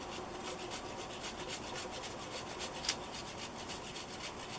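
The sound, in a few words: grating turmeric root on a grater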